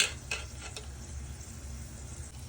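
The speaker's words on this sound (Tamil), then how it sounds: "அண்டி பருப்பு கொஞ்சம் பொன்னிறமா போட்டு வதக்குவோம்" Cashew nuts fry quietly in a pan, giving a soft sizzle with a few light clinks and stirring scrapes near the start, low and steady with no talk.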